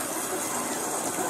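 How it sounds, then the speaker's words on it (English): Water gushes in a steady, loud, unbroken roar as a waterfall floods in Dominica, with no voices over it. "look, the waterfall coming"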